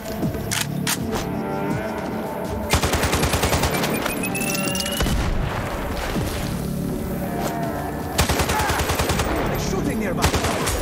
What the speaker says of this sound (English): They're shooting nearby.